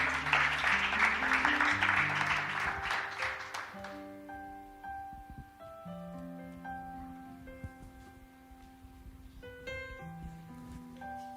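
Guests at a wedding ceremony clap in a dense burst that fades after a few seconds, leaving sustained musical tones playing softly underneath.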